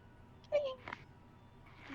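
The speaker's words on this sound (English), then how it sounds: "I heard the kitty." A cat meows once, a brief high mewing cry near the mic, followed by a softer second sound, set against a quiet room with faint background noise.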